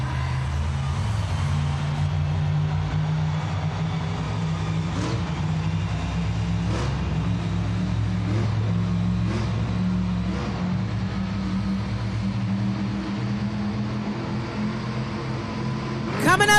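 A 12,000-pound Monster Jam truck works the arena track in Tacoma, its engine holding a loud continuous roar with repeated rising revs as it cuts turns, a voice talking faintly beneath the din.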